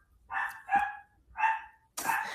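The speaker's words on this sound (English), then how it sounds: "The dogs, I feel like they kind of know when I'm on live because that is the only time they bark." Household dogs bark four times in sharp, loud bursts close by in a quiet indoor room, with short pauses between the barks.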